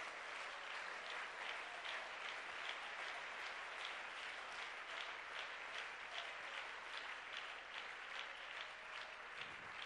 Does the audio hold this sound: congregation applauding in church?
yes